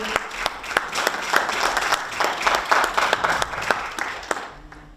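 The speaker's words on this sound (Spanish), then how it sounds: "Cuando le dan un aplauso al Señor." A church congregation applauds in a dense, lively burst of many hands clapping, fairly close, and fading slightly at the end.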